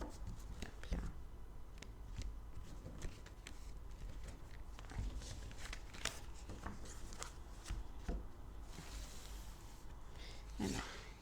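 A deck of tarot cards is cut and handled at close range, giving soft, repeated papery riffles and taps in an uneven rhythm, with a brief louder flutter near the end.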